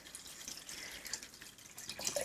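Aquarium water draining out of a tank during cleaning, a steady close trickling and dripping with small splashes throughout, fairly quiet and with no talk.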